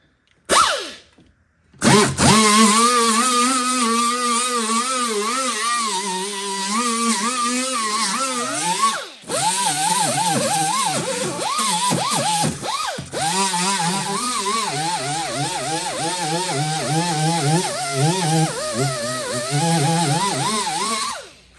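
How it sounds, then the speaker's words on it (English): A small angle grinder with a 36 grit disc spins up and grinds a car body, its loud, wavering whine shifting in pitch as pressure changes, with brief pauses and no voices. "got my little grinder, got me about 3 36 grit discs, and let's try to get started on it"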